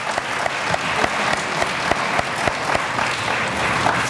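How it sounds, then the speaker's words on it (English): Steady audience applause at an evening candidate forum, dense and continuous for about four seconds, with scattered sharper claps standing out near the front of the crowd. "if you guys could all give her a round of applause"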